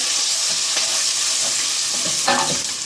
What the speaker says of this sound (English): I will fry it for a little. Just a little stir.